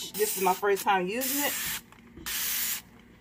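Dawn Powerwash dish spray hisses out of its nozzle in two close, loud bursts, each about half a second to a second long, while someone talks in between and over the start.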